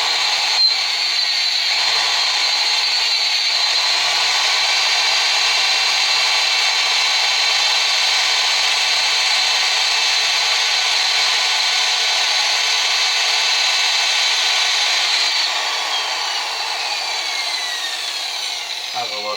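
A power drill runs steadily with a dull bit, drilling during a transmission leak repair on a 1966 VW, loud and continuous for the whole stretch before easing slightly near the end.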